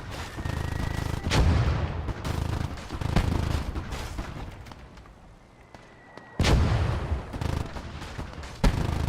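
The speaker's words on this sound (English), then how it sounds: "We should be fine as long as that mortar doesn't get too accurate." Mortar and artillery rounds boom from the Gates of Hell battlefield, several heavy impacts and distant thuds over a rumbling war backdrop, with a loud burst near the middle and more explosions toward the end.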